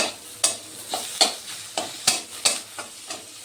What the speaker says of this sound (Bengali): টমেটো কুচিগুলোকে ভালো করে এটার সঙ্গে মিশিয়ে কষাতে হবে